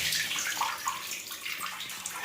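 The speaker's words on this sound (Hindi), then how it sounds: "ये मेरे नए वाले कुर्ते हैं, जो नए बिल्कुल अभी मैंने नहीं पहने थे, इनकी भी फिटिंग की है।" New kurtas being lifted out of a tub of soaking water, giving continuous splashing, trickling and dripping close by, with no voices.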